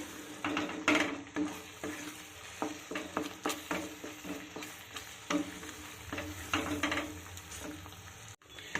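Boiled cauliflower leaf paste is stirred and dry-fried in a pan, with a steady close sizzle broken by repeated scraping strokes and occasional clinks of utensil on pan.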